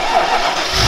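Fiat 500 car engine running: a brief, loud, steady mechanical drone that swells slightly at the end, heard alone.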